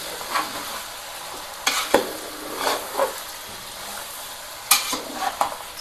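Fish curry is gently stirred in a sizzling pan, with a steady frying hiss and a few louder scraping strokes of the spoon against the pan, close up and without talk.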